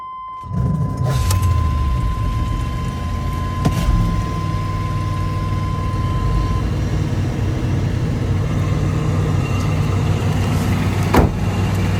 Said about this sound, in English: Will it run, Mike?